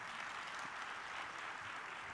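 Audience at a World Environment Day session with Swami Ramdev claps in a steady, even wash of applause, moderately distant and sustained without pause.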